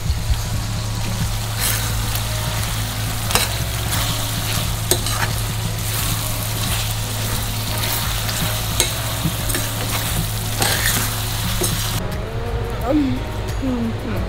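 Chicken curry sizzling in a pan while being stirred, a steady frying hiss with repeated scraping clicks of the spoon throughout, and a voice speaking over it near the end.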